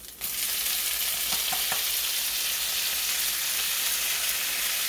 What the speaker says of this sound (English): It may go crazy because it's wet.